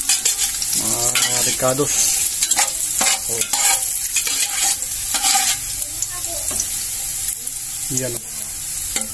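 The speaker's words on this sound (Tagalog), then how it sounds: "Gigisan na ng bawang yung pinsan ko." Garlic sautéed in a hot pan for duck adobo dinugoan, a loud close sizzle with repeated scraping stirs of a spatula, while people talk briefly over the cooking.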